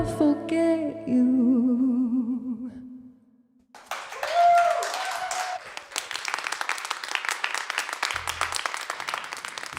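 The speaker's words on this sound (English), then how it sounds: "It's lovely to hear some applause." Live concert audience breaking into applause after a sung ending, sustained crowd clapping and cheering rising over the fading music and continuing steadily.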